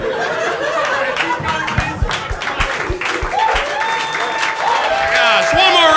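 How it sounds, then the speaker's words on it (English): Audience applause with laughter and scattered whoops at a comedy roast battle, a dense crowd sound that holds steady and swells toward the end, with voices mixed in. "one more round of applause for these two"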